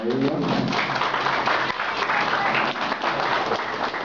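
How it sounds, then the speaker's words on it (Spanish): Audience applause at a ceremony honouring a development official, a dense wash of clapping heard over steady background talk, with a few bird coos faintly mixed in. "Aplausos, por favor, para ella."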